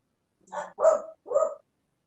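Several dogs bark loudly and close by, three sharp barks in quick succession with brief gaps between them, no talking.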